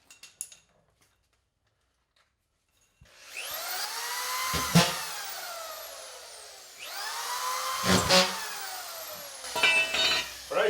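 A screw gun drives screws through a drywall sheet into a back wall: after near silence, bursts of rising, whining motor pitch follow one another, each ending in a short buzzing catch, close and fairly loud.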